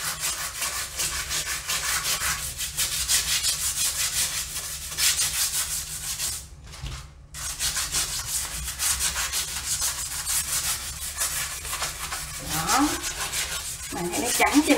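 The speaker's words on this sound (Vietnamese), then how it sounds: "thì mình dùng cái bàn chải nhỏ nhỏ để mình chà nó." A small brush scrubs yellowed grime from the seams of a bathroom glass panel in rapid back-and-forth strokes, a close, steady rasping with a brief pause midway and no speech.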